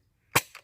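An underbarrel attachment on a Nerf Rayven blaster fires darts with one sharp, loud pop and a softer follow-up burst of air right after, close and alone.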